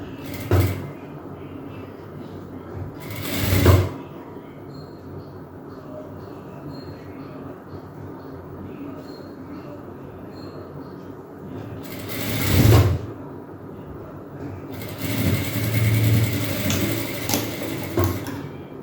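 A sewing machine stitches down a folded fabric edge while an umbrella frock is being sewn, running in three short bursts with quiet gaps between them; the last burst is the longest and steadiest.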